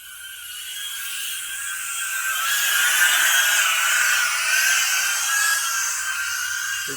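A HOMFPV Wingsuit S cinewhoop drone with 2.5-inch propellers whines loudly and steadily at a high pitch, rising slightly as it draws nearer and then holding, with no talking.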